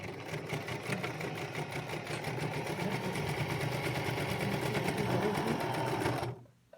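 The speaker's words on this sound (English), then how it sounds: "And sew as close as you can to the edge of the fabric." A sewing machine stitches cloth face mask fabric in a steady, close, rapid whirring run for about six seconds, then stops abruptly.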